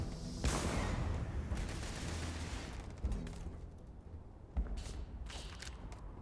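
Gunfire in the sci-fi video game Starfield is aimed at the player: several sharp, loud bursts of shots hit in quick clusters, with short quieter gaps between volleys.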